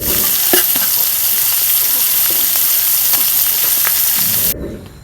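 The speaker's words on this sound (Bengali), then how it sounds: "দেখো কি সুন্দর করে মাছ ভাজছি একদম মস মস করে" Fish fries in hot oil with a loud, dense, continuous crackling sizzle close up, cutting off abruptly just before the end.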